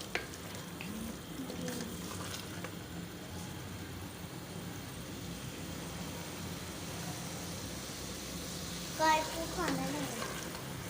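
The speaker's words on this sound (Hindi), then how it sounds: "जैसे साथ साथ कीमा भुनेगा वैसे साथ साथ मटर भी भून जाएगी अच्छे से।" Minced meat and peas fry together in a pan with a continuous low sizzle and occasional stirring scrapes, while someone speaks over it and a voice briefly chimes in near the end.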